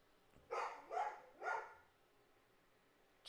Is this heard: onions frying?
no